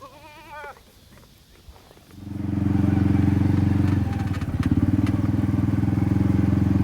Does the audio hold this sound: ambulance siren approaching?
no